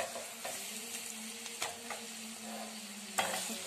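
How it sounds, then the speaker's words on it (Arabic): Marinated chicken wings fry in a pan at a low, steady sizzle while a utensil stirs and scrapes them, giving soft intermittent clacks over the quiet crackle. "هنقلب بقى"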